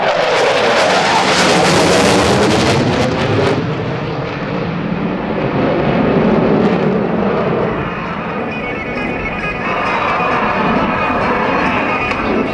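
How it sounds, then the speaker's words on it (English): An F/A-18C Hornet jet makes a loud, close carrier-break pass in front of an airshow crowd at NAS Oceana, a roaring broadband blast that peaks early and then settles into a sustained, receding jet rumble. "He'll come in past the crowd and show center, bank sharply to the left 90 degrees and yank that stick back into his lap"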